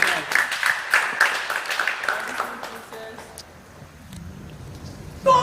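Congregation applause and clapping at a faith church service, a dense burst of claps for the first few seconds that fades into a quieter murmur, with voices in the background.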